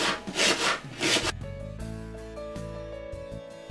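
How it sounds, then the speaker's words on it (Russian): A knife slices an apple into pieces for a fruit pilaf in a multicooker, making three close, raspy cutting strokes before soft music takes over. "Нарезаем яблоко на кусочки."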